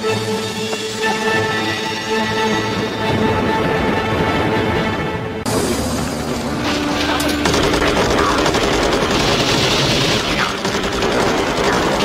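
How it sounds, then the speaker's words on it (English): Sustained bursts of rapid gunfire in a War of the Worlds TV series episode crackle and boom for several seconds, dense and loud, with a sharp shift midway to a harsher barrage. "Gunshots. We've been found out."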